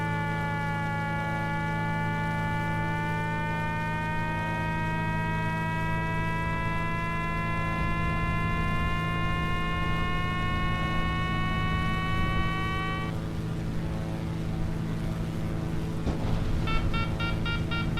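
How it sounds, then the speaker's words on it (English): A glider's variometer beeps in Flight Simulator X over a steady engine drone from the tow plane: a sustained high electronic tone that holds, then breaks into rapid repeated beeps near the end. "That beeping you're hearing is the variometer."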